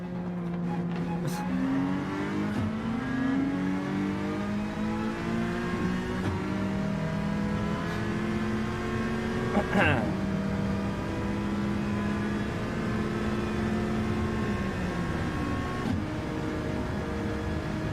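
A race car engine in Gran Turismo 7 hums and revs through a lap, pitch sliding down and up with gear changes and a sharp burst midway, while someone talks over it.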